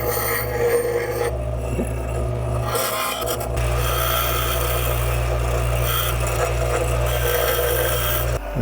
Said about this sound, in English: So by grinding the screw a little bit like that, then it fits the original piece better.